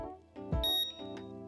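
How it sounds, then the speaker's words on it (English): A short electronic confirmation beep from an SO4 PRO GT electric scooter, a few bright tonal chirps in quick succession, faint and close, with no talking. "Press and hold the left signal button for 8 seconds until you hear a beep."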